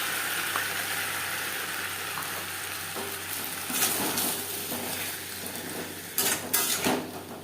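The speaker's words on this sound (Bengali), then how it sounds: "আলুর সাথে মশলা বেশ ভালো করে মিক্সড করে দেব" Frying potatoes stirred together with a green chili and ginger paste for a rui fish curry: a continuous sizzle under scraping spatula strokes and metal clinks against the pan, sharper clatter near the end, no voices.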